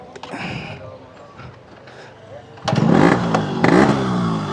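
A Yamaha RX two-stroke motorcycle engine revs up sharply after an idle, rising to loud repeated throttle blips, close by, with people talking over it.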